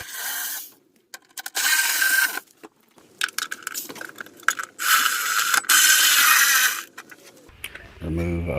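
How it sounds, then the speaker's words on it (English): A hand ratchet loosening the upper timing cover bolts on a Toyota 3.4L engine, short bursts of rapid clicking and rasping with gaps between, close up, and a brief voice at the end. "Removing upper timing cover bolts."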